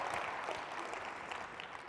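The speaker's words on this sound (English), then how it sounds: "Please join me in another round of applause for the incredible performance opening the iNACOL Symposium 2018" An audience applauds after a performance opening the iNACOL Symposium 2018 keynote: a continuous wash of many hands clapping, steady and rather faint, as if heard from a distance in a large hall.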